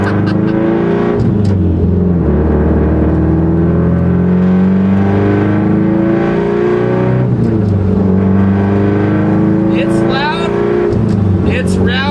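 Loud and close from inside the car, an STI-swapped Subaru GC8 racecar's engine revs and pulls hard through rising and falling harmonic sweeps, with gear changes interrupting the climb.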